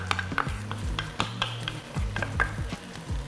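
A pulled pork ragu with tinned crushed tomatoes is stirred in a pot, giving close, repeated scraping and wet squelching strokes over a gentle sizzle, in an irregular rhythm.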